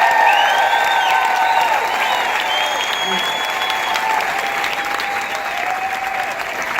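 Sustained, dense applause from a comedy club audience greets comedian Karen Williams, steady and loud throughout with a few whistles and cheers rising above the clapping.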